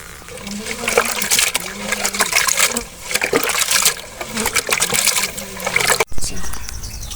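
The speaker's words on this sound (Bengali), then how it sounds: "মাছ কিন্তু ধুয়ে নিতে হইবে" Running water splashes and trickles steadily as cut bata fish is rinsed by hand, close and fairly loud. The water flows continuously with small bursts of splatter and stops abruptly near the end.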